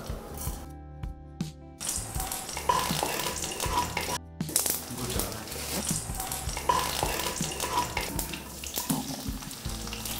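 Mustard seeds go into hot oil in a pan for orange rasam, giving a crackling sizzle with scattered pops and clinks; a few brief silent gaps come early on, and no one speaks.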